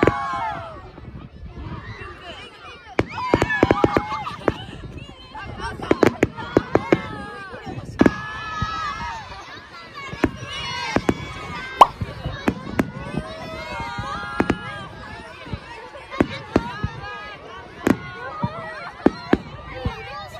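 A midwinter fireworks display at Kamata in Japan sets off repeated sharp bangs and crackles, some near and some farther off, while people chatter constantly nearby.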